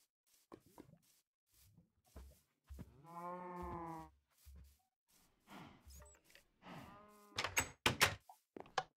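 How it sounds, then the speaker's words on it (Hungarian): Cows mooing in the Minecraft video game, several separate low drawn-out moos spaced across the passage, mixed with clicks, door-like knocks and other short game noises, fairly quiet with no talking. "Saját kis teheneimet is már meg kéne etetni."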